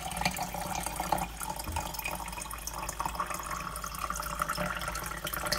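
Water pours steadily into a container holding limes and lemons, a soft continuous splashing and trickling close by, fairly quiet and with no voices.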